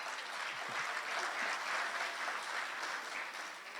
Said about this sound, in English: A lively round of applause for Mrs. Savre.